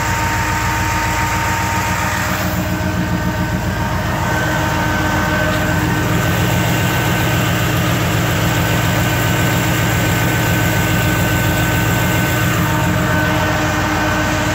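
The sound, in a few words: 1984 Chevy pickup idling with radiator fan kicking on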